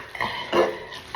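A short bout of stirring as pasta water is worked into a teriyaki pineapple meatball sauce, with a few wet scrapes and clinks of a utensil against the pan, close and fairly clear.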